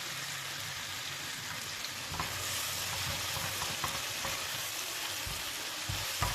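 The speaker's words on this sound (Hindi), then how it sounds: "अब हम इसमें शामिल करेंगे 2 से 3 सब्ज़ मिर्चें कटी हुई।" Chopped green chillies sizzling with softened tomatoes in a pan for dhaba-style chana dal, a steady rain-like frying hiss with occasional light stirring clicks, close but fairly quiet, no voices.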